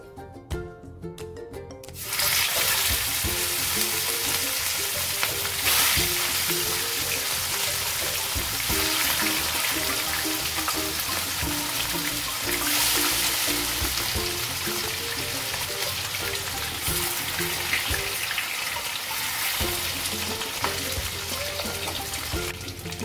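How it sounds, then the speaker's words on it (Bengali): Bhetki fish pieces fry in hot mustard oil in a kadai, a loud, dense sizzle that bursts in after a couple of seconds of quieter sound and then holds steady and continuous. "এখন আমি মাছগুলো ভেজে নেব।"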